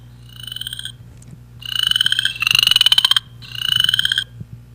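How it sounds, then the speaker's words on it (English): Chorus frog calls played back from a recording: three loud, rapid rising trills, each lasting about a second, separated by short gaps with a steady low hum underneath. "So here's our chorus frog."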